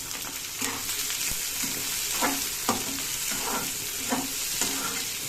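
Chopped onions fry in tempering oil with a soft, steady sizzle, broken by several clinks and scrapes of a spoon stirring the pan at uneven intervals. The sound stays moderately close and quiet, with no voices.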